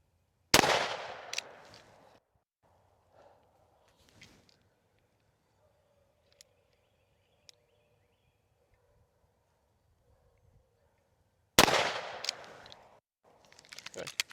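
Two loud, sharp gunshots about eleven seconds apart, fired at a target while zeroing a red dot optic, each with a decaying echo and faint handling noise between them.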